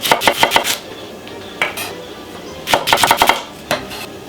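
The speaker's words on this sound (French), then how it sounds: "Le bol ici, oignon rouge, couteau rouge, je coupe l'intérieur." A knife chopping red onion, in quick bursts of crisp, close cuts on a board separated by short pauses.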